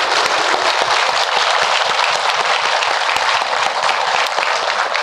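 An audience at a political event applauds staff of the presidential civil affairs office, producing dense, continuous, loud clapping that fills the room evenly from start to finish.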